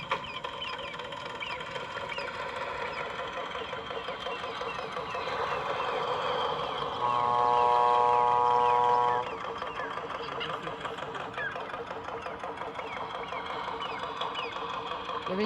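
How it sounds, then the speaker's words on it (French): The small motor of a radio-controlled model trawler on a lake starts and runs as a steady, faint buzzing hum, rising briefly to a louder tonal whine midway, with quiet voices in the background. "Je vais mettre le moteur en route."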